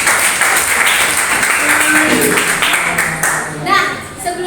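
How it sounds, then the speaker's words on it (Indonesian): A seminar audience at a first aid talk claps together in a steady burst, with voices talking and calling out over and after the applause. "Tepuk tangan untuk kita semua."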